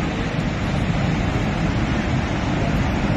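At Niagara Falls the waterfall roars as a loud, continuous broadband rush close by, with no breaks and no voices.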